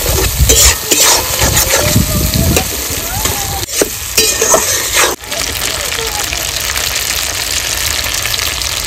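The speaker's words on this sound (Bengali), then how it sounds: "খুব সুন্দর মশলাটা কষিয়ে নেব" Spice paste with turmeric and salt sautéed for a chicken curry, a loud close sizzle with scraping stirs and clanks in the first half, then a steady frying hiss; a voice may be faintly present.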